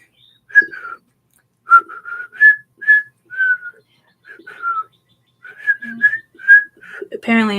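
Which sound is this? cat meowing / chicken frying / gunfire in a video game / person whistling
person whistling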